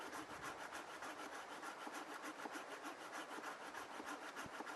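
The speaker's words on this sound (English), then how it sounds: "So I just cut on down through there, and because there's no weight, it's not actually moving." A hand saw cuts down through a living tree branch outdoors, the steady back-and-forth rasping strokes running continuously and close up with no talking.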